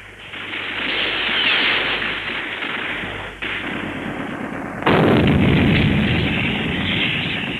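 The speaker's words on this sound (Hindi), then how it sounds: "ठाकुर, हमारी रिकॉयलेस गन कम जबरदस्त मार करने वाली नहीं है।" A loud, continuous roar of artillery fire in a radio war drama rumbles on without pause and grows heavier and deeper partway through, like a dense barrage.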